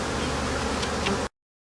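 Dense, steady buzzing of many honey bees at an opened hive, a close, continuous hum that cuts off abruptly.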